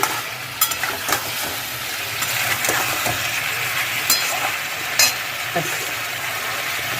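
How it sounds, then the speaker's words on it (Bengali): Spice masala for a vegetarian papaya curry frying in a pan, a continuous close sizzle with occasional sharp scrapes and clinks of a spoon against the pan. "আমার মশলাটা কষানো হয়ে গেছে"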